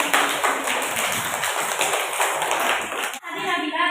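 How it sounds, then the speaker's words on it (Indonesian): Classroom applause for a group of students after their presentation, a dense, steady patter of many hands clapping that cuts off abruptly near the end. "Tepuk tangan buat kelompok 4."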